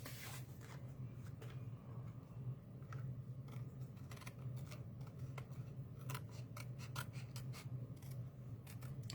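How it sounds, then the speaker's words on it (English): Scissors cut through paper gift packaging with quick, soft snips and crisp clicks spread irregularly over a low steady hum, close by. "I'm just going to cut this off without cutting my bow"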